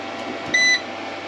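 A single short electronic beep from an EG4 charge controller buzzer, high and clear, sounds once against a quiet steady hum.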